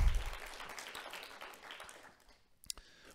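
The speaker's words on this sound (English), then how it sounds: "Clap for yourselves." Audience applause fills the room right away, loud at first and gradually thinning out over about two seconds, followed by a few scattered claps and clicks near the end.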